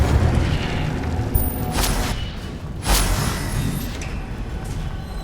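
An Incendio fire spell explosion in Hogwarts Legacy, loud rumbling bursts of flame with two sharp whooshing blasts over a dense, continuous roar of game combat.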